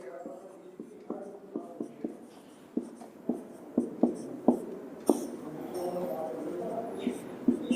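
A pen writes out vectors A and B by hand during a physics lecture. Distinct taps and scratches come in a steady, uneven rhythm, close and clear, with faint murmuring underneath.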